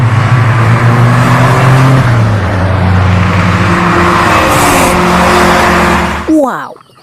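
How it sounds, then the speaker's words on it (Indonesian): Loud, continuous roaring engine and whining motor of a racing car, steady throughout before ending abruptly with a brief squeal, matching a toy race car being shown after cleaning. "Di sini ada mobil balap."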